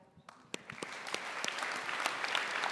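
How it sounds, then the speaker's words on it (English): An audience at a single parent scholarship fund event claps. The applause starts with a few scattered claps and swells into steady, fairly close clapping from a crowd. "big round of applause"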